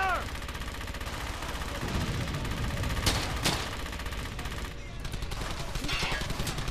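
Gunfire in Brothers In Arms: Hell's Highway, a World War II shooter: sustained bursts of automatic fire and scattered shots over a noisy battle din, with a few sharper cracks, and voices shouting over it.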